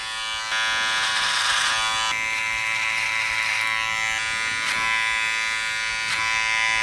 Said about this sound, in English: We're gonna do some clipper over comb to eliminate.